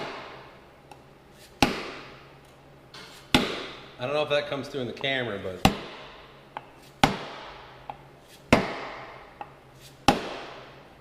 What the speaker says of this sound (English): Yeah, that's just my block of wood crunching. If you listen closely, thud, thud.